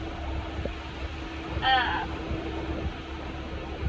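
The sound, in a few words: tractor engine running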